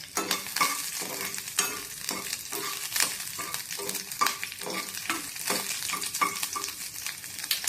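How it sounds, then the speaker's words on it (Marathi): Okra frying in oil with green chili, a soft continuous sizzle under regular scraping stir strokes of a spatula, close and fairly quiet, with no one talking. "हे भेंडे आपण असे परतून चांगले शिजवून घेणार आहोत"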